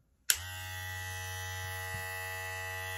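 A Slime 2 electric hair clipper switches on with a sudden click and settles into a steady, close, buzzing hum that runs evenly without pause.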